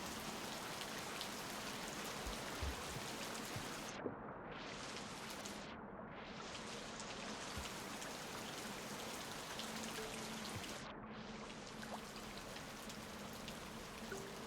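Steady in-game rainfall hisses as a continuous wash of droplet noise, even and moderately loud, with a few brief dips in the high hiss and no voices over it.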